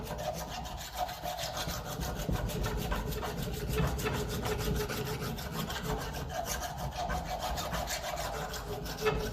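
A flat file works a metal part of a 1954 Ferguson 20 TEF diesel tractor, producing close, rhythmic rasping strokes that repeat steadily back and forth with no talk.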